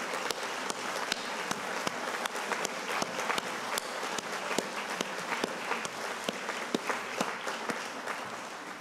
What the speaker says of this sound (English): So how about a round of applause for the nominators?